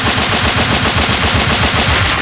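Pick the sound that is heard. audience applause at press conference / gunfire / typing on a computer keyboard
gunfire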